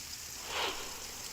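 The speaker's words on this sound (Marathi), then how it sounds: "सिंधुदुर्ग जिल्ह्यात संततधार कोसळणाऱ्या पावसामुळे नदी नाले तुडुंब भरून वाहत आहेत." Continuous heavy monsoon rain falls in Sindhudurg district, Maharashtra, making a steady, fairly quiet broadband hiss that swells briefly midway.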